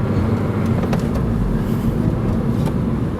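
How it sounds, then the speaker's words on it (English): An 8th-generation Honda Civic Si engine runs at a steady high rev in third gear with a slipping clutch, a droning, strained tone, loud and close, no voices. "Now I'm in third. I'm gonna rev it."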